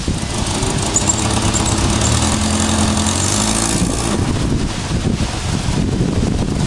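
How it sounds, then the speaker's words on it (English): Eagle Summit car engine idling roughly and nearly stalling, an uneven low rumble that runs throughout, heavily buffeted by wind noise on the microphone. "It's almost stalling."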